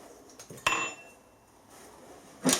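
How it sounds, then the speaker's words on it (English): Thin 0.8 mm aluminium jaw protectors being fitted into a metal vise give two sharp metallic clinks, one early and one near the end, with quiet workshop room tone between. "What I don't want to do is damage the face, so I'll put some jaw protectors into the vise."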